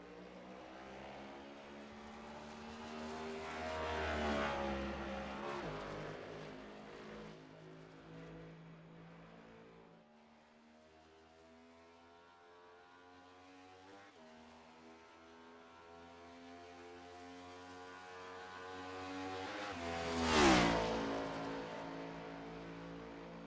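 Number 49 Ford Mustang race car engine at Las Vegas Motor Speedway in a racing video game, droning steadily with harmonic pitch sweeps, rising to a loud pass near the end.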